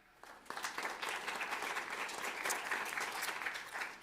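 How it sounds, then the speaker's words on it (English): An audience at a county candidates' forum gives a round of applause: dense, even clapping that starts abruptly and continues for several seconds, heard faint and distant. "Please show your agreement by a round of applause."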